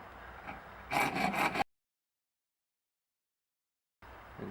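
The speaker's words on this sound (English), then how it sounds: "I'm just going to start the filing with this small round file, and I'll finish it off with the bigger file" A small round file scrapes over hardened epoxy on a homemade train horn part in a short burst of several rasping strokes, followed by silence and then a faint low rustle.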